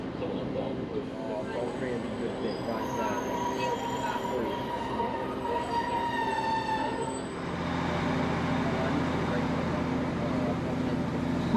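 Passenger train running on rails between Buxton and Manchester, joining the Crewe–Manchester main line, heard from inside as a steady rumbling drone with high squealing wheel tones and a shift in pitch, while a voice talks over it.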